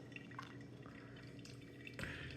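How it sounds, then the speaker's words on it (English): Hot water poured over Catuai coffee grounds in a pour-over brewer, quiet dribbling and dripping with small splashes, close and faint, no voices. "First pour, starting in the center, up to 25 grams, and then spiral to the edge for the remaining 75 up to 100 grams total."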